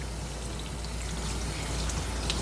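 Tepid water pours steadily while a small Morkie dog is rinsed during grooming, a continuous close splashing rush with no pauses or voices.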